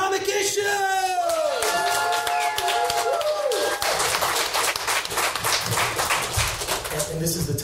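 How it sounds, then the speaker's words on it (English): An audience at a live podcast show cheers and applauds as guests come on stage. Whoops and voices rise at first, then fuller clapping and crowd noise carry on loudly to the end. "Big applause, Comic Issues!"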